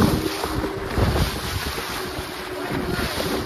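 A boat moving over the sea off Goa, with a steady engine drone under heavy wind buffeting on the microphone and wash of waves, loud and continuous.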